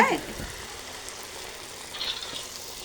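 Oil sizzles steadily in a pan while sel roti fries at a home hearth during preparations for a bratabandha, a continuous close, crackling hiss with small flare-ups.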